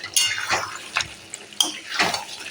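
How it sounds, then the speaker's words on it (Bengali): Mutton being stirred with meat masala in a pan for a thin mutton and potato curry, with a few scraping clinks of a spatula against the metal and a soft sizzle underneath. "এবার মিট মশলাটা আমি ভালো করে কষিয়ে নেব"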